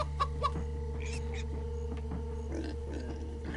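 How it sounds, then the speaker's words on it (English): Chickens clucking in the Minecraft Story Mode video game, a few short clucks and grunts over a steady droning game soundtrack. "You're a chicken."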